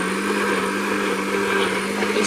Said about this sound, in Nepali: अनि अब भने मिक्सचर काम सुरु मिक्सचरको है त